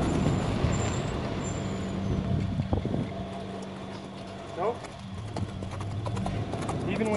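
A young Arabian colt's hooves clip-clopping at a trot, then the hoofbeats stop; a person talks over the outdoor background.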